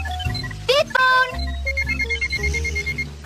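A cartoon phone rings with a quick burst of electronic chirping beeps, then trilling tones continue briefly under a character's voice.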